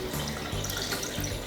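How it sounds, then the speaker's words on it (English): White chocolate matcha latte poured into a small cup, a brief close liquid stream with gentle gurgling and splashing. "I'm just going to carefully pour it into my little cup here."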